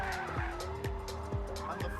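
Turbocharged Ferrari Challenge race car on track, its engine roaring loud and near with repeated rising whines and sharp gear-change drops roughly every half second, tire squeal mixed in.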